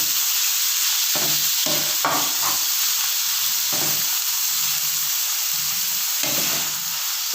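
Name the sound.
chicken mince frying in cooking oil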